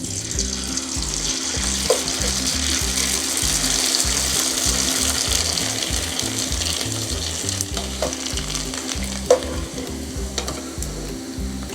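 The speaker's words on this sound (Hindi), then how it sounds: "आइए देखते हैं इनको फ्राई करके।" Thin sliced potato chips for homemade Lays-style snacks fry in hot oil with a steady, dense sizzle and bubbling, a couple of brief clinks standing out, close and loud without talk.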